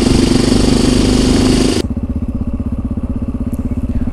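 A Yamaha XT660R motorcycle engine runs close by and loud, its roar thick with wind rush at first, then settling into a steady, throbbing pulse on its own.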